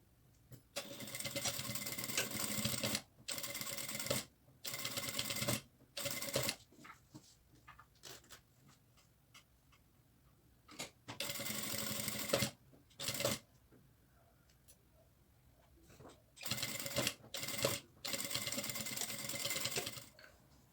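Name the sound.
sewing machine stitching lining, zipper and outer fabric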